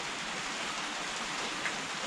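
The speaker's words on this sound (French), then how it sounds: "les gouttes qui tombent dans le bassin, c'est hyper agréable" Steady rain falls outdoors, drops pattering into a garden pond in an even, soft hiss with no voices, moderately faint and close.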